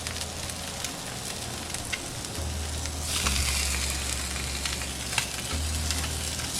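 Steady sizzling of fish and potatoes sautéing in a pan, a dense crackling hiss with a few scrapes and taps as the fish is turned, growing briefly louder midway.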